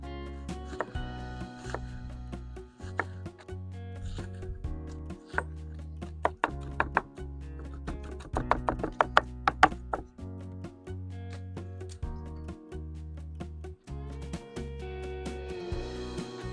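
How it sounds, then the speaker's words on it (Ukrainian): Meat being finely chopped with a knife for lula kebab, rapid irregular knocks on a board in quick bursts, close and crisp, over steady background music. "Я люблю нарізати дрібно на ножем."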